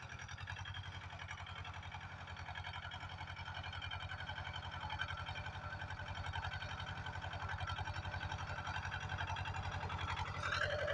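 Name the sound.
tractor engine running while making field ridges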